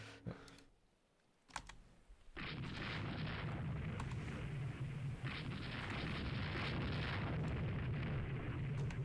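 Naval gunfire from Le Fantastique class destroyers with auto-loading 6-inch guns in the Rule the Waves 3 video game, a couple of sharp clicks and then a sustained loud rumbling barrage that rolls on without pause.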